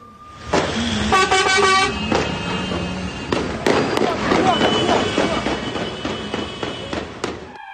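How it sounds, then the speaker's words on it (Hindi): Gunfire rings out amid city traffic during a shooting attack in Jerusalem: a rapid series of sharp, loud cracks over a continuous wash of engines and blaring car horns, with voices mixed in. "जिसपे गोलियों की आवाज साफ तौर पर सुनाई दे रही है"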